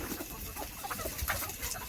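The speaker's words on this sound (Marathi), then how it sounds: "तुम्ही बघू शकता कोंबड्या कशा प्रकारे खात आहेत ते." Desi country chickens cluck and peck while eating grass and rice on a farm, with a steady overlapping chatter of soft clucks and short calls, close by and fairly busy throughout.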